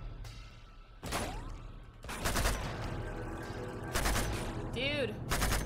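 Bursts of automatic gunfire in Uncharted 2: Among Thieves, loud rapid volleys in several separate bursts, mixed with game sound effects and someone talking over them.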